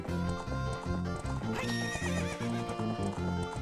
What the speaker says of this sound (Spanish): Como veis, hay otros caballos